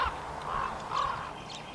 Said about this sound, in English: Two little tree swallows having a squabble